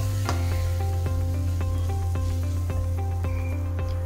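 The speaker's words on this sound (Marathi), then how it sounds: "आपण या मसाल्यामध्ये फिरवून घेऊया" Gram flour is stirred into sizzling tomato masala for Maharashtrian pithla, a soft close sizzle broken by regular spoon taps and scrapes against the pan, over a steady low hum, with no talking.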